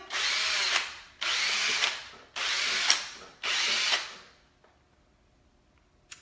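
A power drill whirs in four short bursts separated by brief pauses, loud and close, then falls quiet.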